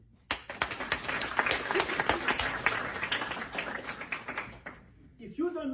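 An audience claps in a dense, steady burst of applause lasting about five seconds, then fades out as a voice begins to speak.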